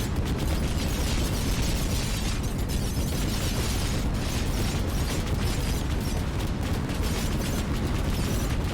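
A torpedo explosion in a video game makes a loud, dense, sustained roar of crackling blast noise with rumbling low end that stays steady throughout, and no one speaks.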